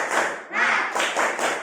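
A classroom of students performing a rhythmic spirit clap, several loud, close bursts of group clapping in a quick patterned beat.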